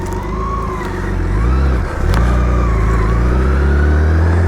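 A BMW K1600 GTL motorcycle engine is heard loud and close while riding in winter, its drone rising in pitch, dipping briefly and then climbing again as it gathers speed, steady and continuous with no talk.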